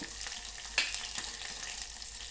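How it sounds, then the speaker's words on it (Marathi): Garlic, ginger and green chili frying in a pan, a quiet, steady sizzle with a few soft stirring clicks, close by and without speech. "मस्त झाला आहे लसूण आणि अद्रक, हिरवी मिरची."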